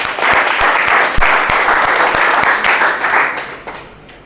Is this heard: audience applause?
yes